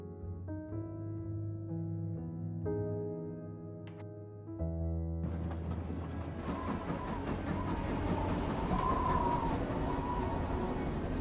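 A train rumbles along the tracks in the Murder on the Orient Express video game, a low rolling noise swelling in beneath sustained musical tones and growing steadily louder.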